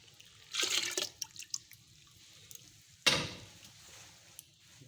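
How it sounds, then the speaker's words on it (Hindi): Washed lentils tipped into water in a pressure cooker while making moong masoor dal, giving a short watery splash and pour near 0.6 s and a sharper splash near 3 s, with light drips and clinks between. "इसके बाद हम डालेंगे इसमें दाल"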